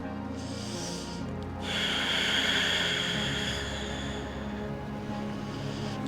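Forceful, noisy breathing during a yoga session for shoulder strength and forearm stand: a steady rush of air that swells into a louder, sustained breath midway, close to the microphone, with no talking.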